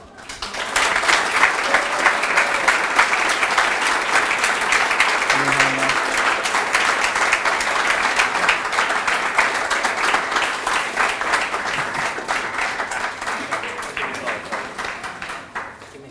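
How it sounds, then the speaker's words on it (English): Sustained applause from a graduation audience at the 2023 Fairfield Medical Center GME ceremony, honoring the Preceptor of the Year: dense, steady clapping from many hands that fills the room for about fifteen seconds before fading out. "let's give a big round of applause to this year's Preceptor of the Year, Dr. Michael Schild."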